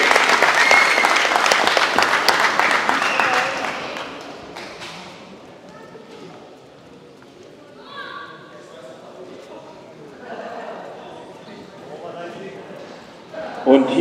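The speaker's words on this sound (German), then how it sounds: "Nochmal, euer Applaus für Tom und Jö." Loud, dense audience applause at a NABBV men's bodybuilding championship in an arena, sustained for about four seconds before fading as an announcer speaks over lighter scattered clapping.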